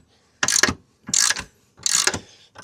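A wrench loosening the rear axle nut on a 2025 CFMoto 450SS motorcycle, three separate short bursts of clicking ratchet strokes with brief pauses between them, close and clear.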